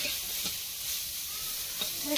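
Aloo kalara (potato and bitter gourd) frying in a pan while being stirred produces a soft, continuous sizzle, with brief scraping stir sounds breaking through it.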